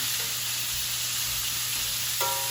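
Shrimp sizzle steadily in a hot pan, an even, close frying hiss that holds for the whole stretch, with a faint tonal clink near the end and no talk.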